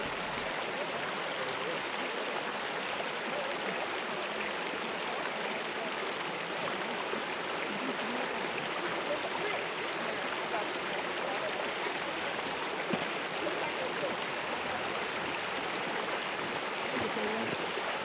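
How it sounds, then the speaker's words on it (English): Stream rushing through a canyon near Cummins Falls waterfall in Tennessee, a steady, loud broadband wash of flowing water that holds constant from start to end with no break. "The waterfall feels close now. Every turn is louder, every step is cooler."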